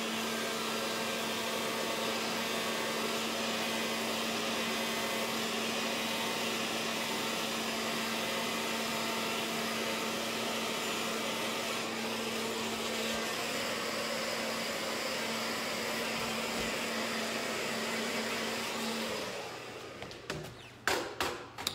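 A hair dryer runs steadily to dry a short layered haircut at a salon. Its loud, constant airy whir lasts about twenty seconds, then cuts off into a few sharp handling clicks and bumps. No one speaks.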